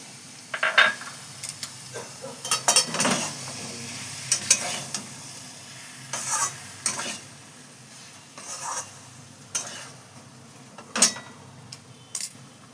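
Green pea and green chili paste stirred in a wok over heat, giving a soft, continuous sizzle broken by repeated scraping and clinking strokes of a spoon against the pan, close and fairly quiet.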